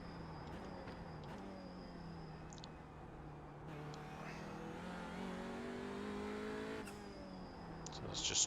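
A TCR race car in iRacing circles Summit Point on cold tyres, its engine droning steadily with gear changes and rising revs, loud and close throughout with no talk.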